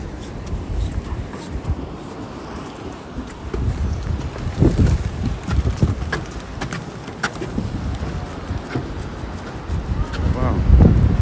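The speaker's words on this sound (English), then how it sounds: "Very windy here today." Strong coastal wind buffets the microphone at the Seven Sisters chalk cliffs by the sea, a loud, constant rushing roar with gusty thumps throughout, and a voice speaking now and then beneath it.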